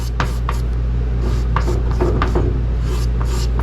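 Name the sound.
scraping a paint run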